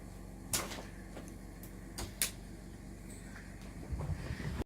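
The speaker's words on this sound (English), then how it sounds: "Mummy opened the door." A door opening indoors at home, heard as a few quiet clicks and sharp knocks of the latch and frame spaced over several seconds against low room noise.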